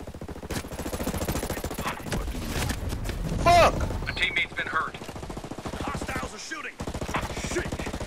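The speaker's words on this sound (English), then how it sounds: "Hostiles are shooting." Hostile gunfire in the video game Ghost Recon Breakpoint, a run of rapid sharp shots crackling in bursts under game effects, with a short pause before more shooting.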